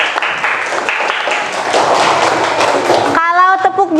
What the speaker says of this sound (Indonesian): Kita kasih tepuk tangan dulu untuk kelompok 1.